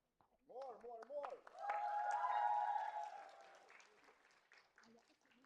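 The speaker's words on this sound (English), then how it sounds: "Please, round of applause." Audience at a student network national assembly breaks into a round of applause that swells and then fades, following a short spoken introduction.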